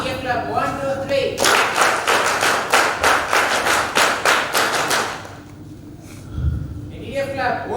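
A group claps in steady, synchronized rhythm on a count for a media photo at a Silver Jubilee event, about a dozen loud, even beats ending abruptly, with speech before and after.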